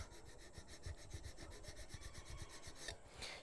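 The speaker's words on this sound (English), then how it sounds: "that's draw filing." A metal file is draw-filed in quick, even, rasping strokes, close by but quiet, repeating steadily with no voices.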